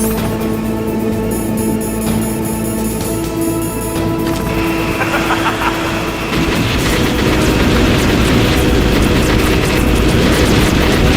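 Hind attack helicopter in the video game Metal Gear Solid, a steady loud rotor and engine drone that runs the whole time beneath layered game music and ambient effects.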